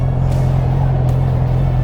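A Yamaha MT-07 motorcycle engine on a first ride makes a loud, close, steady low rumble with a constant drone, heard alone over a short stretch.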